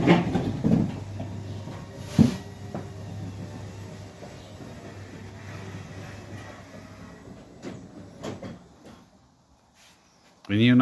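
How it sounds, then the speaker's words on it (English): A Nice DC Blue Absolute roll-up garage door motor hums smoothly and low for several seconds, with a clunk at the start and stop before falling quiet. "The new ETDC Blue Absolute roll-up garage door motors."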